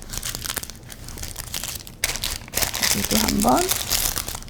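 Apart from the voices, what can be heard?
twisting paper wrap around a roll of butter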